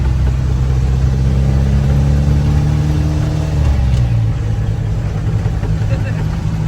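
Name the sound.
1975 Ford Transit MK1 diesel engine accelerating, shifting gears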